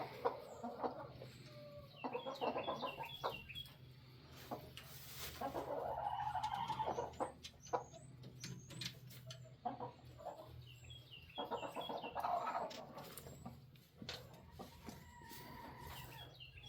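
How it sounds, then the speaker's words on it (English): A broody hen being moved back to her nest makes low, grumbling clucks and short squawks in irregular bursts, fairly faint, with a car passing in the background. "Go on, you little angry chicken."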